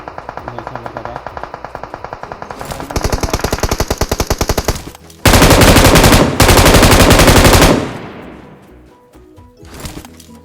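Heavy automatic gunfire from a PUBG-style battle royale match, loud rapid bursts that build into two dense, sustained volleys before trailing off into scattered shots, with no voices.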